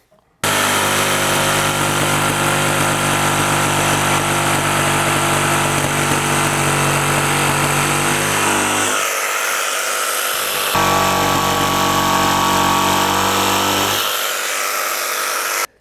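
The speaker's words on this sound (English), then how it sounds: "Watch my drill." Steady, loud power-tool drone from a power drill during stair building, running almost continuously with two brief pauses where the motor cuts out, and speech blended underneath.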